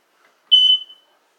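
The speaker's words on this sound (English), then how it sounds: "Sorry, that was my smoke alarm." A household smoke alarm gives a single loud, shrill electronic chirp about half a second long that fades quickly, heard alone in an otherwise quiet room.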